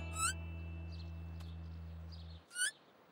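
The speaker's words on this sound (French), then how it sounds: "Poc, tu as sauvé le bébé oiseau." In a cartoon, a baby bird gives two quick, high, bright chirps, one near the start and one near the end. A low steady hum runs underneath for most of the stretch.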